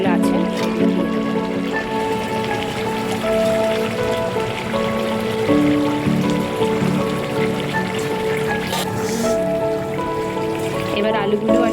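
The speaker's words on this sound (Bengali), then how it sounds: "এইবার আমি চিকেনগুলো যেগুলো আছে সেগুলো দিয়ে দেবো।" Chicken pieces go into spiced masala frying in a pan for Bahari chicken, raising a loud, steady sizzle that crackles continuously throughout, with a voice and faint tones underneath.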